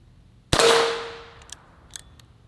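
A single sharp rifle shot from old ammunition fired at a target outdoors, loud and close, with a long decaying ring and a couple of faint clicks afterward.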